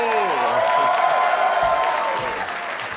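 A German TV studio audience applauds in a loud, sustained wash of clapping as a late-night show returns from summer break, with a voice speaking over the ovation.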